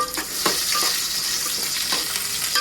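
Onions frying in a pan for a Nellore-style fish curry, a constant close hiss of sizzling oil with light stirring clicks and scrapes scattered through.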